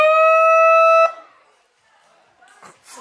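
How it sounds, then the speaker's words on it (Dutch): A steady electronic siren tone blares loud and continuous for about a second before cutting off abruptly, leaving near silence and faint movement noises afterwards. "Ik zou wel die sirene gewoon doen."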